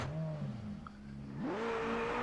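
A sports car engine in the video game Just Cause 2, a machine-gun-armed supercar, holding a steady hum and then revving sharply upward to a higher, sustained whine, moderately loud with no voices.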